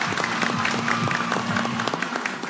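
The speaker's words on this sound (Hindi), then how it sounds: "एक दफ़ा तालियां हो जाएं वसीम बदामी भाई के लिए।" Studio audience clapping for Waseem Badami on a Pakistani TV show, a dense, steady burst of applause and crowd noise filling the room, with a voice heard over it.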